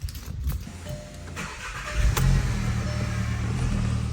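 A car engine cranks with a few rough turns, then catches and settles into a loud steady idle, heard close with no talking.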